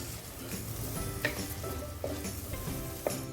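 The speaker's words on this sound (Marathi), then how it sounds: "मिक्सरच्या भांड्यात मी थोडं पाणी टाकून घेतले ते टाकूया छान परतून घेऊया" A thick ground spice paste thinned with a little water sizzles steadily in a pan, stirred with a few sharp scrapes and taps of a utensil, close up with no talk.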